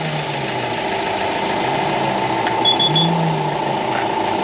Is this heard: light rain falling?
no